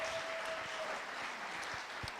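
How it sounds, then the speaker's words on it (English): A crowd at a startup pitch event claps for Aspen Entrepreneurs, a soft, distant patter of applause with scattered individual claps that fades slightly toward the end. "Let's give that a round of applause for Aspen Entrepreneurs."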